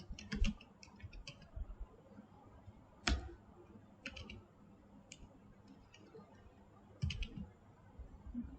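Computer keyboard typing in short bursts of quick clicks separated by pauses, with a single louder keystroke standing out, close and quiet in a still room.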